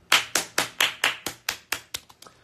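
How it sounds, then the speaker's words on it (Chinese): About ten sharp hand claps close by, in a steady rhythm that slows and fades toward the end, with no voices. "我们全场给他拍拍手"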